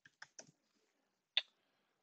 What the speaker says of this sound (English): just typing in the actual name